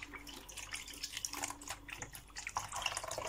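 Milk pours into a bowl for homemade crepe batter, a soft, uneven liquid splashing and gurgling that runs continuously at low volume, with no talking.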